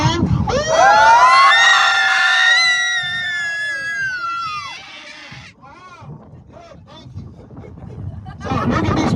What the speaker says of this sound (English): When I go 3, 2, 1, everybody scream.